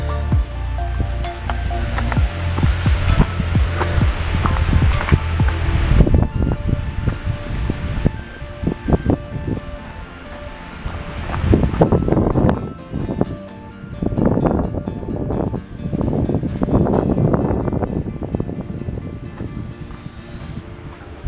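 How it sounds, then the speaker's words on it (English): Wind rushes through the trees of a forest trail in Mont Mégantic national park, Quebec, a loud continuous roar that swells and eases in gusts, with no talking. "I can hear the wind just going through the trees on the other side from here"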